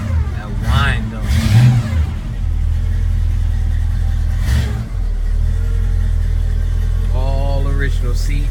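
A 1966 Buick Skylark's engine revs with a supercharger-like whine. It rumbles loud and close, with a rising rev near the start and another climbing whine toward the end over a steady idle.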